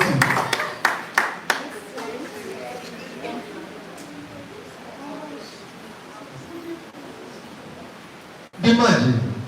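Scattered claps ring out from a house gathering, a burst of several sharp hand claps at the start giving way to a low murmur of voices, then a short loud swell of applause and cheering at the very end.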